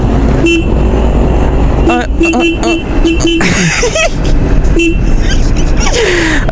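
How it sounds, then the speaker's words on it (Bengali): A car horn honks repeatedly in short toots at a close distance, spread across the clip, with a voice talking and humming throughout and traffic noise underneath. "হর্ন বাজালে আসবে, দিব্যি আসবে।"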